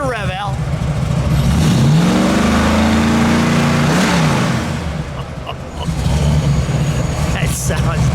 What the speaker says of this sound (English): Let me listen to it idle and then we'll have you give it a rev.